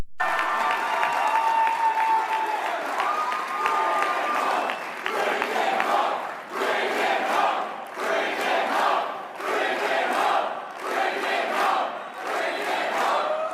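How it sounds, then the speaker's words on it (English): An election night crowd cheers and claps in repeated loud surges, bursts of applause and shouting rising and falling in a steady pulsing rhythm, heard alone without clear speech. "The cope of that cheering is so strong, I can taste it."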